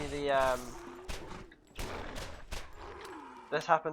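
Pistol shots from a weak handgun in the video game Borderlands, a few sharp separate reports among other game effects and a final quick burst near the end.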